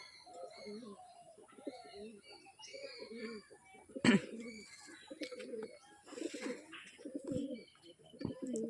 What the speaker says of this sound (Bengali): তিনটে পায়রা উড়িয়েছে।